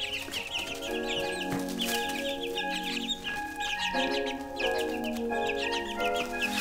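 Young chickens clucking and chirping steadily in a DIY A-frame coop, a dense, continuous chorus of close cheeps and clucks with no talking.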